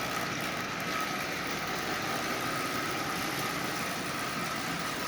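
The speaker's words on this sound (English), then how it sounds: "this old locomotive runs really," A derusted Marx 999 toy locomotive with new screws and a reinstalled rear truck pulls 14 Lionel cars along the rail at half power, giving off a steady, close motor whine and rumbling hum with no talk.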